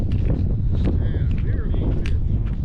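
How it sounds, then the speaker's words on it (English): Steady wind gusting across a microphone on a saltwater fishing boat, a loud continuous low rumble with faint chirps and clicks over it and no clear talk. "That wind is picking up,"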